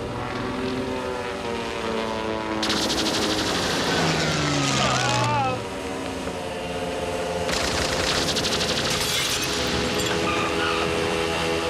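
A propeller aircraft engine drones in a Blake & Mortimer adventure video game, a loud, steady rumble with bursts of rattling noise layered on top, as a voice speaks over it.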